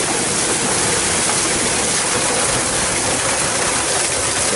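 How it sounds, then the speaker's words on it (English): Water rushing through the intake of a small pond-powered turbine setup, a loud, continuous broadband roar with no pauses or voices. "we just wanted to show you our water flow. It's not pulling a siphon yet, but we get lots of water"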